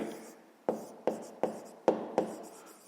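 A pen writes out a fifth-grade maths solution on paper, giving five or six short distinct taps and strokes at an even pace, close and fairly quiet.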